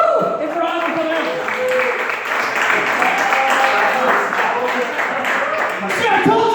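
A comedy club crowd claps and cheers loudly for a comedian, with whoops and voices mixed into the applause, which stays dense and continuous throughout.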